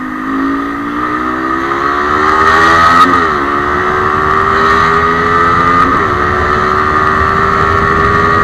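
Honda CB150R motorcycle fitted with a metal guard, its engine loud and close, revving up in rising sweeps with a couple of brief dips as it climbs, nothing else over it.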